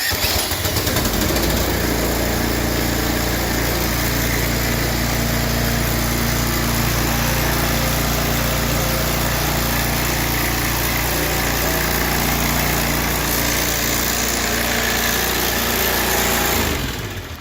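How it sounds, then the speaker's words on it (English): A Troy-Bilt pressure washer's small engine, started with a drill instead of a pull starter, runs at a loud, steady drone for about sixteen seconds with no one speaking, then cuts off at the end. "Engine is on,"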